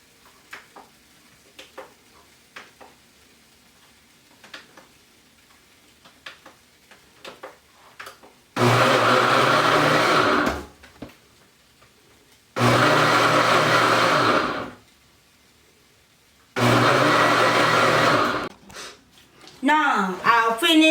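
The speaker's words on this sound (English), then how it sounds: "use fruit processor to blend everything together. Now I'm going to blend it." A food processor blends moin moin bean batter in three loud whirring bursts of about two seconds each, separated by silence and preceded by soft scattered clicks.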